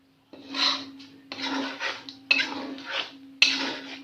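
Chicken karahi with yoghurt mixed in a pan over a low flame, a spoon scraping and rasping in four distinct bursts, close and loud with no talking.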